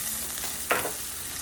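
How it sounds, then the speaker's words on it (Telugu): Washed curry leaves dropped into hot oil for a prawn curry, a brief sharp crackling burst over a low steady sizzle, close and short. "కడిగి పెట్టుకున్న కరివేపాకు వేస్తున్నాను"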